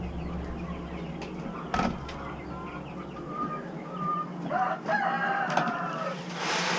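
Chickens cluck and a rooster crows inside a broiler barn on a farm, with a few sharp crows over a steady bed of clucking and fowl chatter, fairly close and loud.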